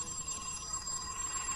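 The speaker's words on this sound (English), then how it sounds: "Phone's ringing." A telephone bell ringing in the video game Unshattered, a steady trilling ring held at moderate loudness for the whole moment, heard alone with no voices.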